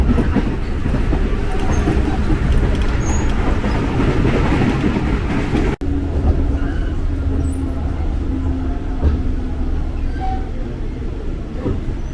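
A KRL commuter train speeds between Duri and Tanah Abang stations, heard from on board as a loud, steady rumble and rattle that holds for the whole stretch, with faint clicks of wheels over the rails.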